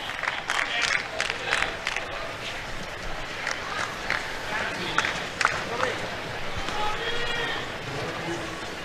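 Crowd at a US Open tennis match between Cameron Norrie and Joao Sousa cheering, clapping and heckling, a busy loud wash of shouts and applause with scattered claps and whoops and voices talking over it.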